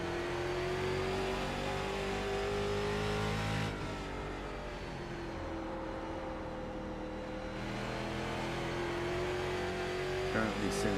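A street stock race car's engine drones steadily down the straightaway at Langley in iRacing, holding a loud, even pitch before easing off for a few seconds and rising again.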